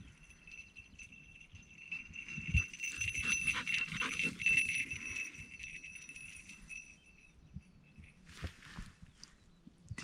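A search and rescue dog pants and moves about outdoors in the Shropshire hills, its breathing close and steady with rustling steps, easing off toward the end.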